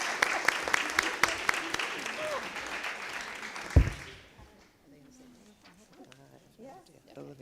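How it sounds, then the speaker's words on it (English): A school committee meeting audience claps for a teacher. The applause is brisk, with a few louder individual claps, and stops abruptly midway, after which quieter talking voices remain. "We're going to clap for her"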